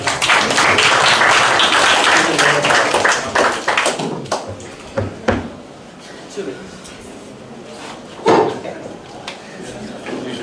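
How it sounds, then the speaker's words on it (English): A debate audience claps for speaker Alex, a loud, close burst of applause that thins into scattered claps and thumps, with some voices underneath. "Everyone give Alex a round of applause."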